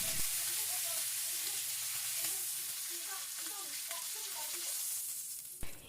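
Beef short ribs seasoned with salt and black pepper sizzle and crackle steadily in a frying pan, a continuous close hiss with scattered spitting pops and a clatter at the end.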